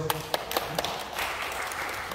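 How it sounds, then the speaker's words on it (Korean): Audience applause breaks out at a school-violence staff training session in Damyang, starting with a few scattered claps and swelling into a steady, moderately loud wash of clapping. "네, 박수 주세요."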